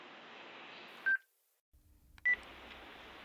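Telephone dialing tones placing a call to the Fenwood House guesthouse: two short, clear beeps separated by a quiet gap, set against a steady hiss, with a low rumble between them.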